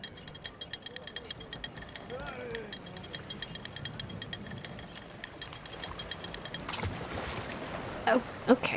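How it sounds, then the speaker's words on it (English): A wooden pirate rowboat is lowered by ratcheting gear, with creaks, clicks and mechanical rattling, then a few louder knocks and splashes as it meets calm water near the end. "Lower the boat."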